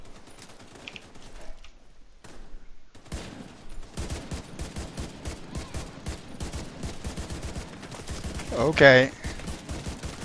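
Enemy gunfire in the shooter The Division 2 comes as rapid bursts of automatic shots after a quiet opening, continuing steadily at close range with a louder burst near the end, and a brief spoken word early on.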